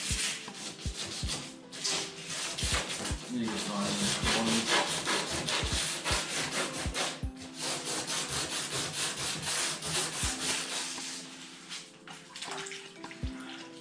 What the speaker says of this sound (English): This is just sanding it to get rid of all the rest